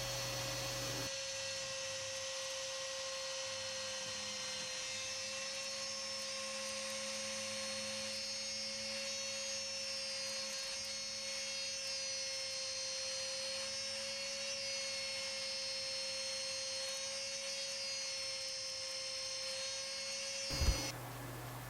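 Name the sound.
router cutting a name into wood along template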